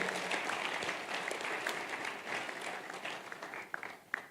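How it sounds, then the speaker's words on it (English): An audience at a sales masterclass claps for itself, a dense, continuous round of applause heard at moderate distance, with a few sharper claps standing out toward the end. "Come on, clap for yourself,"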